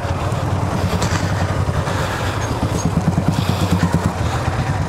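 A Bajaj motorcycle engine idles and putters outside a Bajaj service center, a steady low rumble that turns into rhythmic chugging as the bike is moved into place, close by.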